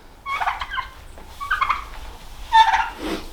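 A turkey in a farmyard barn gobbles in three separate bursts, close and clear against a quiet background, each rattling call spaced about a second apart.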